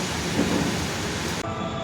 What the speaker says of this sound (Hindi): बारिश आ रही है हल्की हल्की हल्की हल्की